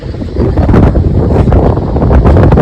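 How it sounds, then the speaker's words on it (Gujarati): Strong coastal wind at Diu roars steadily across the microphone, a loud, continuous buffeting rumble with no voices heard. "પવન બહુ આવે"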